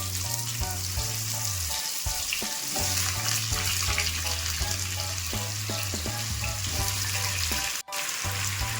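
Diced potatoes frying in a pan give a continuous loud sizzle with occasional stirring, alongside a steady tonal hum from nearby.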